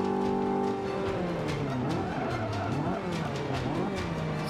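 A race car in the Forza Motorsport 5 video game roars past with a rising and falling engine whine and tyre noise, loud and continuous throughout.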